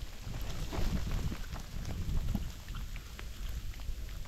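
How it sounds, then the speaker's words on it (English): Freezing rain and sleet falling in spring woods, a steady soft hiss with scattered faint ticks of pellets striking surfaces, mixed with low wind rumble, continuous and moderately quiet. "Freezing rain, sleet."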